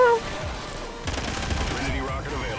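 Heavy gunfire in the video game Call of Duty Ghosts, a dense fusillade of overlapping shots and automatic bursts building after a brief tone, steady and fairly loud throughout.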